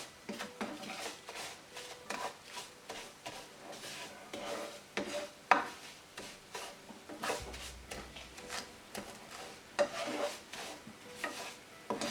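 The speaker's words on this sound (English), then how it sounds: "Saute it constantly so that it doesn't stick to the base of the pan" Sheer khurma ingredients being sautéed and stirred constantly in a pan, giving steady scraping and rubbing strokes with a light sizzle underneath, close and moderately loud, with no talking.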